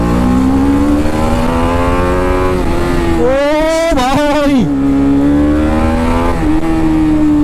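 A BMW G310RR motorcycle in track mode idles loudly up close, then revs sharply to a high pitched roar for about a second before dropping back to a steady idle; someone briefly speaks.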